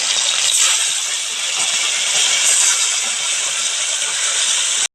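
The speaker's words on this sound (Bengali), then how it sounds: "আমি ওর মধ্যে এখন মাছগুলো দিয়ে দিয়ে ভাজা করার জন্য।" Fish fry in hot mustard oil in a wok, a loud, dense, steady hiss of sizzling that holds evenly and cuts off abruptly at the end.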